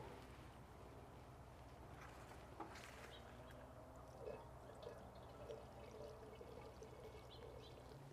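Water poured steadily over winter greens arranged in an outdoor window box, a faint continuous trickle running low beneath quiet background noise, with a few small splashes along the way.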